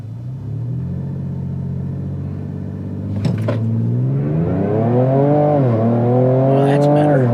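A Ford Ranger Raptor with a Ford Performance ProCal tune accelerates hard from a low idle rumble, its engine pitch climbing steadily through a gear change into a loud, close, rising roar, with a brief voice partway through.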